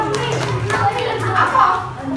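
Children clap their hands in a primary classroom during a lesson, a few scattered, light claps blending into a busy room with a teacher's voice and kids chattering over them.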